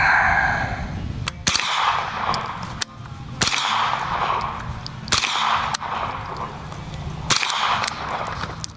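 Rifle shots from a rifle fitted with a KynSHOT recoil buffer: four sharp, loud reports spaced a couple of seconds apart, each with a ringing outdoor decay, over steady background noise.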